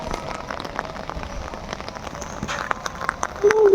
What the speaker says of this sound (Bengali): বৃষ্টি ধরছো কেন?